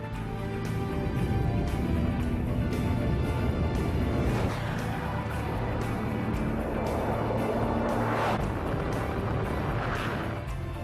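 A Bugatti Veyron supercar with a 1,001-horsepower engine drives with a steady, loud engine roar that holds throughout, swelling in brief surges near the middle and end.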